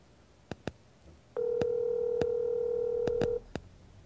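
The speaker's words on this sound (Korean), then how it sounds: "전화 연결 중." Phone dialing in the game Garry's Mod: a few sharp touch-tone beeps, then a sustained steady tone for about two seconds as the call connects, followed by another short beep.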